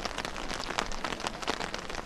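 Heavy pouring rain over a youth football match, a dense continuous hiss and patter filling the whole stretch with no voices.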